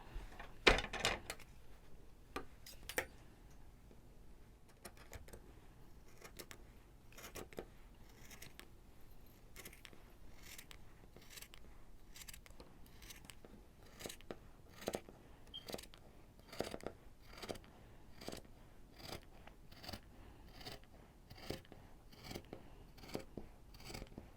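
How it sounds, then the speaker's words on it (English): Scissors snip steadily through fabric, a long run of crisp, rhythmic cuts with brief pauses, close up and fairly quiet. "I'm gonna grab my scissors and I'm gonna start cutting"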